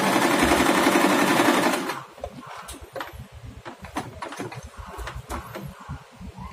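A Singer portable sewing machine stitches in a loud, rapid, steady whir for about two seconds, then stops, leaving softer clicks and handling sounds from the machine.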